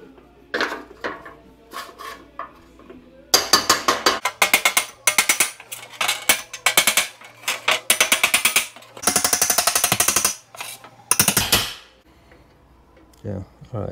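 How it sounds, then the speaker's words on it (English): Sharp metallic hammer blows on a 1950 Cadillac hearse body panel over an inside dolly ring out in rapid bursts, some quick rattling strings and some isolated knocks, loud and close, with brief pauses between runs. "So I just got a little inside dolly I'll hammer through the inside."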